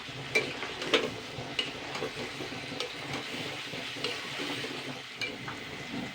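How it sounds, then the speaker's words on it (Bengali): Chicken masala with ginger-garlic paste, tomato and onion being sautéed for a Bengali chicken curry: a soft, steady sizzle with frequent light scrapes and taps of a spoon against the pan, fairly quiet, with no talking. "এগুলো দিয়েও আমি আবারও দু মিনিট মতন কষিয়ে নেবো"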